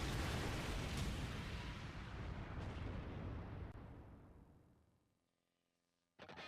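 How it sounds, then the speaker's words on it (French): A loud explosion sound effect from the Naruto Shippuden anime, a sustained roaring blast that rumbles and slowly dies away into near silence before another burst cuts in at the end. "Explosion!"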